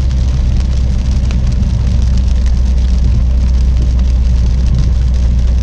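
Steady rain drumming on a car during a countryside drive, a dense continuous hiss over the low rumble of the moving vehicle, loud and unbroken throughout with no talking.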